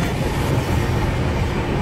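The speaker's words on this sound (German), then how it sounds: "Wir sitzen jetzt im Zug" Steady rumble and clatter inside a moving train carriage, continuous and close, with no voices over the rolling rail noise.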